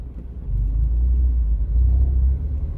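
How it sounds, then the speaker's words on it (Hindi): A car approaching along a street in Ireland, a steady low engine rumble that swells slightly as it draws nearer and holds at a moderate level throughout, with no talk over it. "अब ये एक गाड़ी इस तरफ आ रही है"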